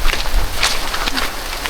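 Heavy rain from Typhoon Basyang pours down in a dense, continuous hiss, close and loud, with scattered splashes and rustles mixed in.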